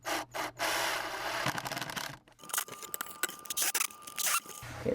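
A nut driver tightens nuts on a DIY rotating composter built from two plastic buckets, giving close scraping, rasping turns in short bursts, with clicks and plastic rubbing between them.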